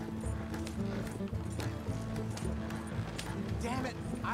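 Horse hooves gallop in Red Dead Redemption 2, a rapid clip-clop rhythm running the whole time beneath talk.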